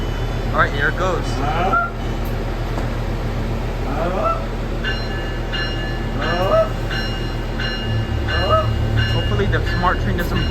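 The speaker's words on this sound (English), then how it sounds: "This is the northbound train going to Windsor." A SMART diesel multiple unit passenger train pulls out of a station heading north toward Windsor, its steady rumble and rail noise running throughout with recurring chirping tones on top.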